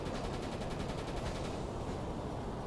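An enemy ship fires at a surfacing submarine in UBOAT, a rapid run of muffled, distant-sounding shots over a dense low rumble, thinning out after about a second and a half.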